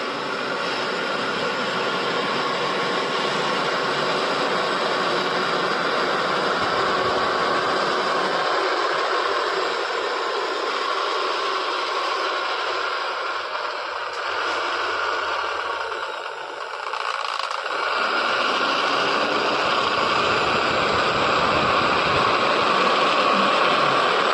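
Sewing machines stitch house coats and nighties in a garment factory, making a continuous loud mechanical whir and drone that barely dips through the whole stretch.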